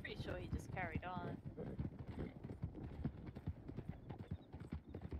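Horse hooves clip-clopping in the Red Dead Redemption roleplay game, a brisk, continuous run of hoofbeats with a whinny early on and voices talking over it.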